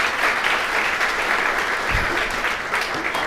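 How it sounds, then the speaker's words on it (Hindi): A large audience at a motivational talk gives loud, sustained applause for a civil judge, a thick continuous roar of many hands that fills the whole stretch at an even level, with no speech over it. "एक बार रंजीत के लिए जोरदार तालियां बजाओ।"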